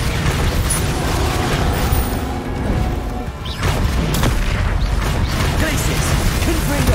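Bombarda exploding spell in Hogwarts Legacy, heard as heavy booming blasts and crashing debris amid a steady roar of game combat, loud and sustained with a short dip in the middle.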